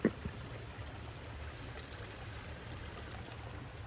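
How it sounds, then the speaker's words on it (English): Steady, soft rush of flowing water from a nearby creek on a trail to Three Sisters Falls in Cleveland National Forest, continuous and low, with a brief knock at the very start. "And there's the creek."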